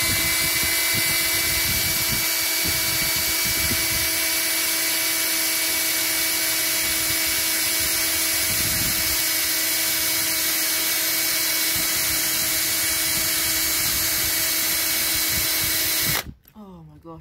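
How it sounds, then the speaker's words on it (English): A power drill whines steadily and loudly as it bores through the middle of a bike trailer hubcap clip, grinding on for about sixteen seconds before cutting off abruptly. "drilling through the middle of the hubcap clip"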